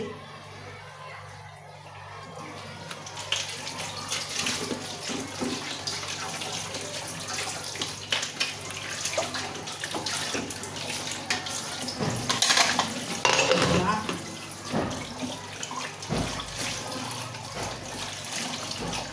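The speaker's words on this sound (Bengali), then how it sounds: "এগুলো এখন ধুয়ে পরিষ্কার করে নেব এদিকে দেখো অনেকগুলো বাসন পালা জমে গেছে" Tap water runs steadily while dishes and pots are washed, with occasional clinks and scrapes of the utensils close by, and a person talks at times over the water.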